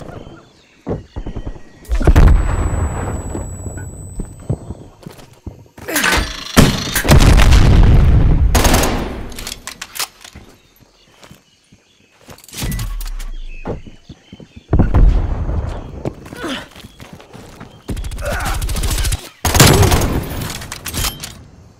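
A strafe run in a video game lets loose loud bursts of gunfire and booming explosions. The heavy impacts come in several separate clusters with short quiet gaps between them.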